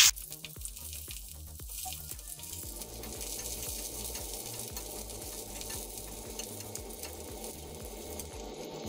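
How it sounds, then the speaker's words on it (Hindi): Onions frying in hot oil, heard as a quiet, continuous crackling sizzle with a rapid bubbling texture that holds steady throughout. "सबसे पहले मैं अभी इसमें तेल गरम हो गया और प्याज डाल दूंगी"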